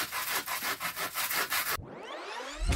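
Hot glue residue being sanded off by hand in a series of quick, rhythmic abrasive rubbing strokes, close and fairly quiet, ending with a short ringing scrape and a final thump.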